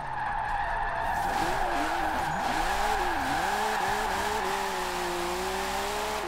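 Tires squeal in long wavering howls as a car drifts in Forza Horizon 4, the screech rising and falling over a steady engine drone, loud and close.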